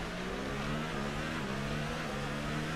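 Formula 1 car engine in F1 2018 at Monaco, a steady mid-pitched drone running behind the safety car, continuous and fairly loud with no voices.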